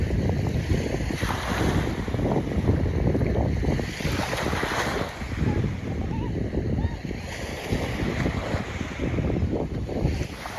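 Waves and surf wash steadily onto the shore at Avon Beach on the New Forest coast, a constant broadband roar buffeted by wind noise on the microphone, with no clear voices.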